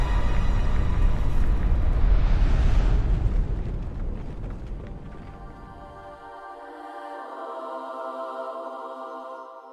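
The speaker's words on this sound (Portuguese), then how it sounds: "Explosão nuclear!" Nuclear blast from the opening intro of the video game Chained Echoes: a huge, loud roaring explosion rumbles for several seconds, then fades into a sustained, ringing musical drone with no speech over it.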